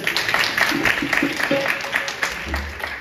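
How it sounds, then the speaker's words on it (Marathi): An audience at a Ram Katha religious discourse claps together, a dense, continuous patter of applause lasting a few seconds at fairly close range. "टाळ्या वाजवा त्यांच्यासाठी"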